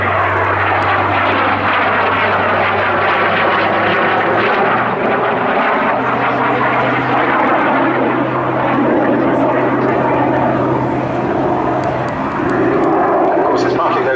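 A Jet Provost T3 jet trainer flying a display at Abingdon, its engine a loud continuous roar with a steady low drone and slowly shifting pitch as it passes, under someone narrating throughout.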